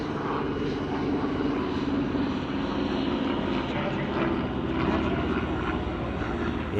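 Propeller training aircraft, an Australian-built type alongside a New Zealand CT-4 elementary trainer, fly past at the Wings Over Illawarra airshow: a continuous droning engine roar, fairly loud and steady, with a slow swell.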